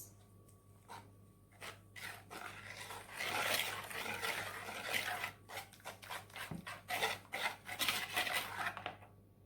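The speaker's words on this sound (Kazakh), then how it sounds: "Жақсылап араластырамыз." Chiffon sponge cake batter is stirred in a bowl, with repeated scraping and light clinking strokes in an uneven rhythm, close and fairly clear, with no talk.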